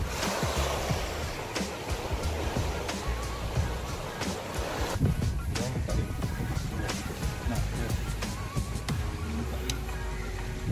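Sea waves and swell wash steadily at a fishing spot by a strait, a continuous broadband rushing with wind noise throughout, while people talk over it.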